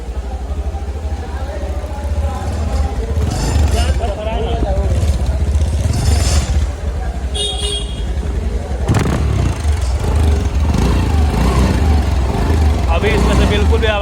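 Honda Dio scooter engine running after its gearbox pinion was replaced, a steady mid-pitched hum with light mechanical clatter, heard close and continuously under people talking in a workshop.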